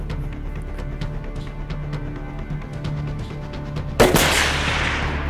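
A single sharp sniper rifle shot cracks loudly out of steady outdoor background noise, its report echoing and decaying over the next second on a shooting range.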